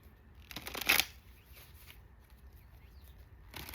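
A tarot card deck being handled and shuffled, giving a brief close riffle of cards near the start and faint card rustles afterward in a quiet room.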